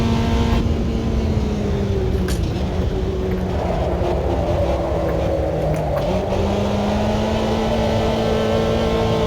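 An old Chevrolet Chevette's engine drones steadily in a racing video game, a continuous buzzing tone that shifts pitch as revs change, with no voices over it.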